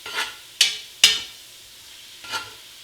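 Italian sausage browning in a pan for Cajun shrimp and sausage jambalaya, with a few sharp scrapes and stirs of a utensil against the pan over a faint sizzle, close and without talk.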